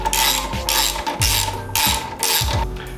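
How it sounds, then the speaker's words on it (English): A hand ratchet tightens suspension bolts on a Harley Road Glide Special during a Legend Revo Arc install, four quick bursts of loud, rapid clicking at an even rhythm, close up with no talking. "so we got our bottom bolts nice and tight in there"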